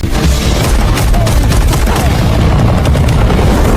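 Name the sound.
gunfire from a helicopter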